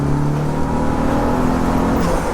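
A turbocharged Vauxhall Astra GTE accelerates hard in third gear, its engine note climbing steadily with a whirring turbo spooling up, loud and close from inside the car.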